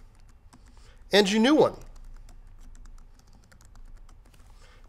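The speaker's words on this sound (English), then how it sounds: "type in your old password" Faint, rapid clicks of a computer keyboard as a password is typed at a desk, continuing quietly under a brief spoken phrase and on alone afterward.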